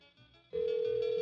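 An unplugged toy telephone suddenly sounds a single steady electronic ring tone after a moment of quiet, close and fairly loud.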